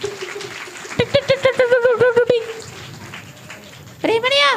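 A group of children at a vacation Bible school puppet show claps for Joshna in a quick burst of about a dozen rhythmic claps, mixed with voices, loud and close.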